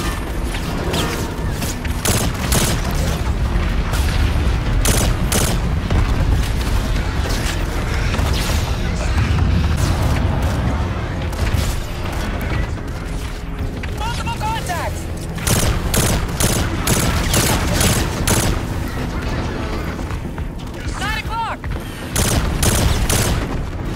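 Dense gunfire from a Call of Duty: Infinite Warfare battle rattles almost without pause, with rapid automatic bursts, heavy booms and mechanical clatter layered over shouted voices and a few brief dips.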